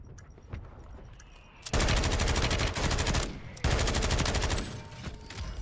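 Rapid automatic gunfire in Call of Duty Warzone 3 from a Striker 9 submachine gun, loud and close, in two sustained bursts after a quieter stretch of ambient game sound.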